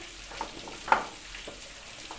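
Meatballs fry in oil in a home kitchen, a soft, low sizzle with a few sharp crackles and pops spread across the moment, no one speaking.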